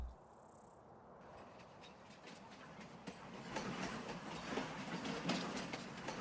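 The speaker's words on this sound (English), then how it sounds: "oh, here comes the train." A train passes in the Farming Simulator 19 video game on the Alpine Erlengrat map, a low rumble that slowly grows louder and rhythmic, with wheel clatter over steady cricket-like chirping.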